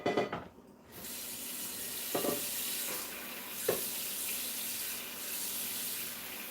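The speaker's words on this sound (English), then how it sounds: "Let me get some water." A kitchen tap is turned on after a brief handling sound and runs in a steady, fairly close rush of water with a couple of faint knocks, no talking.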